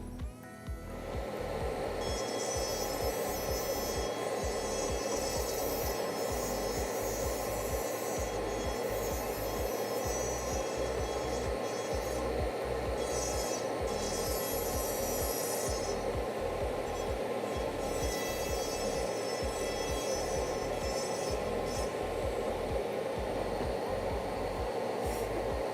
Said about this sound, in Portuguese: aqui temos o aspirador potente que também está aspirando essa poeira do gesso que será desgastado